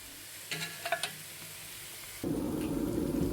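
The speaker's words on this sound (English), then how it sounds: "Stir fry. Low heat sear." Vegan ground meat searing on low heat in a pan: a few light taps and scrapes come first, then a steady, moderate sizzle starts partway through and continues to the end.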